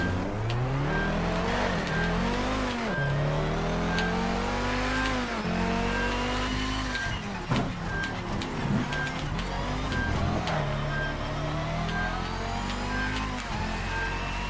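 A race car engine in an Xbox 360 racing game revs in repeated rising and falling sweeps as gears shift. A short electronic beep repeats at a steady interval over the constant engine drone, and no one speaks.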